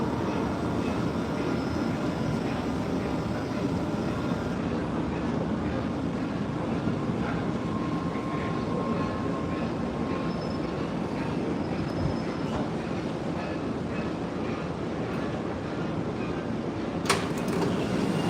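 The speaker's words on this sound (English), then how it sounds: "brand new train, fresh from the factory." A brand new CRC Red Line subway train running, a steady loud rumble and hum of the carriage in motion throughout, with faint squeals and a brief sharp clank near the end.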